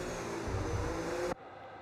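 A Formula 1 race car at the Chinese Grand Prix gives a loud, steady high-pitched engine whine that cuts off abruptly near the end, leaving a quieter background hum.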